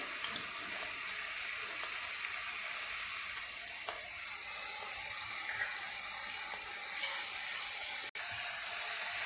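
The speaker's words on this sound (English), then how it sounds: "I'm going to add the onions and fry it till it becomes little softer" Chopped onions fry in hot oil for pasta sauce, giving a steady, dense sizzle that holds loud and close throughout, with one brief dropout near the end and no talking.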